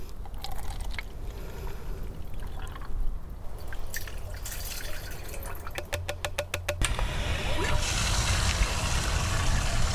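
Liquid is poured into a 2-gallon pump sprayer container for dormant fruit tree spraying, with dripping and trickling that swells into a louder, steady rushing fill over the last few seconds.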